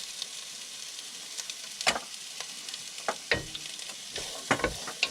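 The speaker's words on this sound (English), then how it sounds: "And you need to saute until it gets golden brown." Onion and celery sauté in olive oil, giving a soft continuous sizzle with irregular spoon scrapes and clinks against the pan, close by and unaccompanied by speech.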